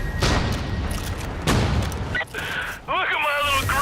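Gunfire from headshots on two enemies in Far Cry New Dawn: a few loud, sharp shots in quick bursts, followed by game sound effects, with a voice audible partway through.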